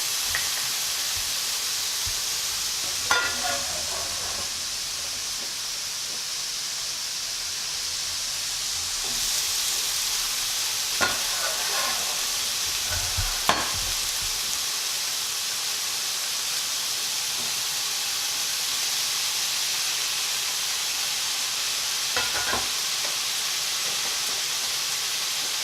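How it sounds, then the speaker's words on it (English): Summer squash and pounded chicken sizzle in a pan, a constant broad hiss with a few scattered scraping knocks as they are stirred. No voices are heard. "it's time to go ahead and add in the summer squash."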